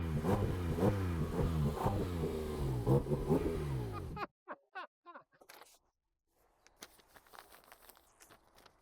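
A Porsche engine revs hard for about four seconds with rising and falling harmonic sweeps, then cuts off, leaving scattered clicks and faint noises.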